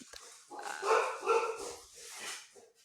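Several dogs bark in a loose, overlapping cluster through the middle of the clip, fairly close and moderately loud, with quieter yips before and after.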